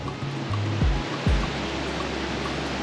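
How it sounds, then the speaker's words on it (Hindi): Water rushing over rocks at Tiru Waterfall near Ranchi, a steady broadband roar that continues through the clip, with a couple of brief low thumps near the start. "ये देखो यहाँ से सब पानी आ रहा है ना"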